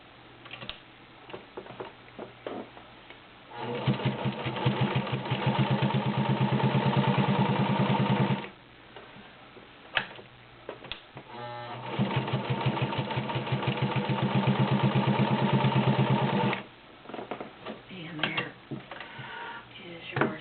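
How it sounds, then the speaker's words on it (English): A vintage Japanese-made Penncrest sewing machine stitches through leather in two long runs of loud, fast mechanical chatter, separated by quieter pauses with faint handling clicks. "that is your Penncrest Japanese made vintage sewing machine"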